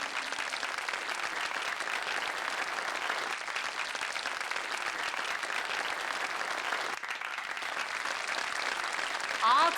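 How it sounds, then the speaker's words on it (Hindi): Audience at a fashion show applauding for a show-stopper model's entrance, with a dense, steady wash of clapping that holds throughout without a break. "तो तालियों की गड़गड़ाहट से स्वागत कीजिए हमारी शो की पहली शो स्टॉपर"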